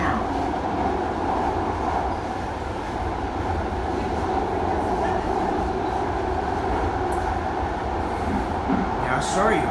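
A VTA light rail train rolls along in steady motion, a continuous loud rumble of wheels and car noise heard from onboard with no pause, a couple of faint brighter squeals near the end.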